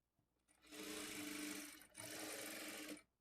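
A sewing machine runs in two steady bursts, stitching blouse neck piping pieces together, with a brief pause between the runs and no talking.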